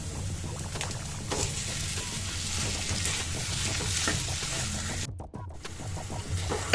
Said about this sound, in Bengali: এবার আলুটা আমরা ভালো করে এর সাথে মিশিয়ে নেব।